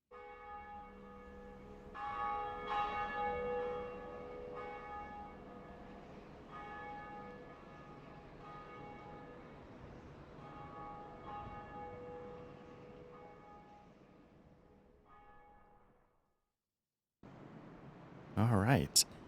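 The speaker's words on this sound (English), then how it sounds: "So the first of 2 bells has been rung." Large church-style bell tolls repeatedly in Dark Souls, long resonant strikes ringing out with steady decay over a quiet game ambience, followed by a brief pause and a sharp burst of noise at the end.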